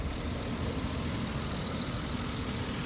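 Steady low engine idle of a 2008 Ford Explorer with a constant rumbling hum, unchanging throughout, no voices; the engine randomly shuts off at idle and then cranks but won't start.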